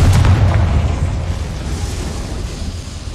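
A Confringo fire spell explodes in Hogwarts Legacy with a single loud, deep boom that rolls off and fades over a few seconds, with no talking.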